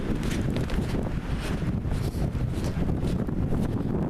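Strong, loud wind roars through a mixed forest near Simuna, Estonia, a constant gusting rush with buffeting against the microphone and no voices.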